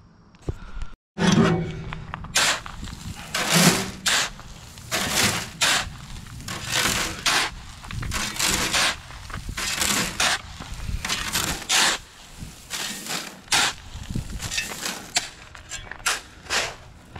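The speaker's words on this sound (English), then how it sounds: "Let's start, uh, let's start screeding." Rough, gritty scraping and crunching as a screed rail is dragged across chipstone permeable aggregate for a paver walkway, in repeated loud strokes with short pauses between, close up.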